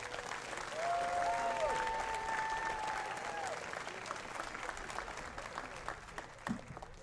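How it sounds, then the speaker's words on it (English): Sustained audience applause fills a commencement ceremony at a military academy, steady crowd clapping with a few whistles that swells early and then holds before tapering slightly near the end. "please join me in one more round of applause to recognize these dedicated professionals"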